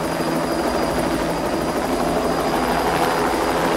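A helicopter drones steadily overhead, its rotor thudding in a fast, even beat against a constant engine whine, loud and close throughout.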